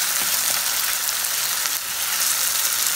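Onions with salt sautéing in a pan, with a loud, steady, dense hiss of frying and no talk.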